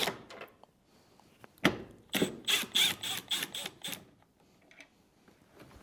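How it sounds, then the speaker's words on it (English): A T20 Torx bit backs out two screws on a Maytag washer during a control board swap, giving a quick series of close clicking, ratcheting turns after a couple of sharp knocks, then quiet. "Remove these 2 screws using a T20 Torx bit."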